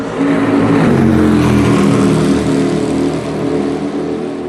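A car runs at speed on the Barcelona Formula 1 circuit, close and loud. The engine gives a continuous throaty roar that shifts slightly in pitch as it accelerates and holds its speed.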